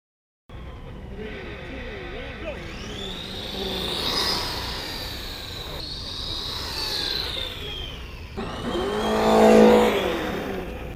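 Traxxas Slash and Cross Country RC cars race, electric motors whining and rising in pitch as they speed off and pass, with a louder surge near the end and faint background noise.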